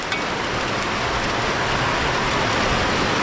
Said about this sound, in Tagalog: lakas ng ulan mga idol oh